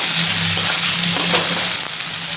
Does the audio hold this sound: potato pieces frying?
yes